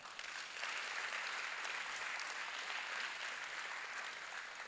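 Applause fills the hall at an oratorical championship gathering, steady and even throughout, heard at a moderate distance with no voices over it.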